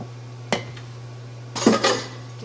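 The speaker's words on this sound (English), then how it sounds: "Dishes, dishes, dishes." Dishes, pots and pans clatter in a home kitchen while a large chicken-and-rice meal is cooked: one sharp knock, then a louder burst of metal and cutlery clinking close by, with no talk.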